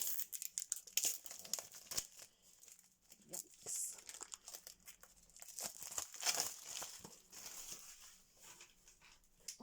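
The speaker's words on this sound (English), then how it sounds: "We'll take the plastic off and I'll show you." Plastic wrap being peeled off a notebook, loud close crinkling and tearing in irregular bursts with brief pauses, while a person talks and a dog whimpers faintly.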